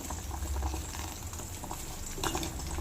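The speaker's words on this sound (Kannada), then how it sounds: "ಸಾರು ಕುದೀತಾ ಇದೆ." Greens soup (soppina saaru) bubbling at a steady boil in a pot, a continuous dense churning with small pops and gurgles, close and moderately loud with no talking.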